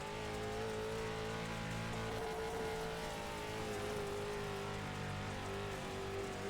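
A limited late model race car engine drones steadily at high revs for the whole stretch as the car circles the track, loud and continuous with a slight pitch wobble through the corners, no talking.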